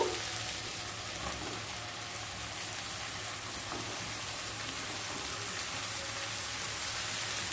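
Grated papaya tipped into a hot pan for a simple Bengali vegetarian papaya dish, sizzling and frying steadily as a dense, even hiss that carries through the whole stretch with no talk.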